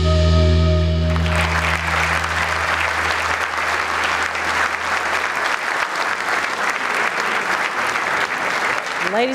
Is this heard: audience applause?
yes